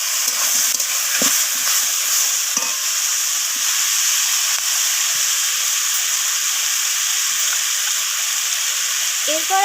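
Kohlrabi, flat beans and eggplant are stirred with spices in a pan of hot oil, producing a loud, continuous sizzle and hiss broken by occasional scrapes and taps of the spatula.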